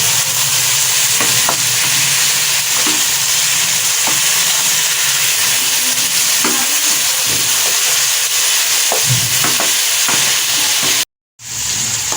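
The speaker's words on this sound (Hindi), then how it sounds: "2 मिनट 3 मिनट और भूनेंगे ताकि इसकी अच्छी सी भुनाई हो जाए कलेजी की, और हमारा मसाला भी भुना जाए।" Goat liver fries with masala in a pan, giving a loud, steady hiss and sizzle with occasional scraping stirs. The sound cuts out briefly near the end, and no one speaks.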